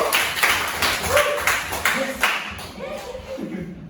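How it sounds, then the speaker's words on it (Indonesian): A small group claps in a classroom to praise students after their presentation, a few distinct rhythmic claps fading out, with brief voices between them. "Beri tepuk tangan terlebih dahulu."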